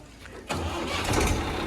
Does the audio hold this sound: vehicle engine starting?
yes